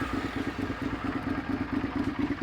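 A Harley-Davidson motorcycle idling close by with a loud aftermarket penguin pipe exhaust, its deep rhythmic pulsing steady and lumpy throughout.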